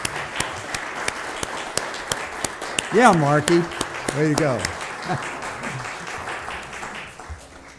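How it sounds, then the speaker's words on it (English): A church congregation applauds its pastor during a Sunday worship service, with steady, moderately loud clapping throughout while people talk over it. "Let's give Joel a round of applause."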